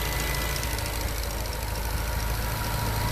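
A Bentley Continental GT Mulliner's W12 twin-turbo engine idles close by with its bonnet open, a steady low rumble with an even mechanical hum and no voices.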